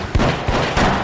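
Gunfire in a crime film about an ex-soldier and a rogue police officer staging a robbery cracks out as about three loud, close shots in rapid succession within a second.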